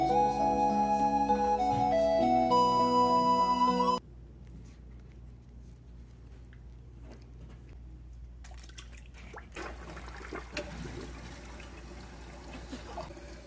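A toilet with rubber ducks inside flushes: after a few seconds of music and a quiet pause, water trickles, gurgles and drains in uneven bursts, close and moderately loud.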